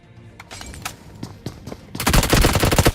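BGMI gunfire at close range: scattered single shots at first, then a dense, loud volley of rapid fire in the final second.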